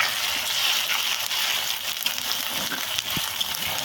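Spices for chicken curry frying in a pan with tomato, a steady close hiss of sizzling oil that runs continuously, with occasional faint stirring knocks and no talk.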